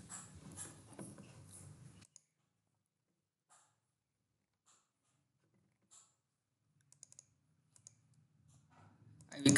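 A computer mouse gives a few faint, sparse clicks scattered over an otherwise near-silent stretch, with brief soft sounds at the start and a louder noise at the very end.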